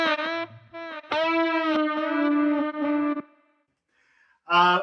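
Guitar played through a NUX MG-101 multi-effects unit on its reverse setting, notes swelling in backward with rising attack, several held distorted phrases, a short gap, then another swelling chord.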